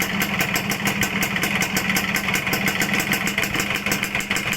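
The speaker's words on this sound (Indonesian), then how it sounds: "Saya coba tarik ya." A Suzuki Satria two-stroke motorcycle with a road-race exhaust runs close and loud, a steady buzzing drone with rapid pulsing and no talk over it.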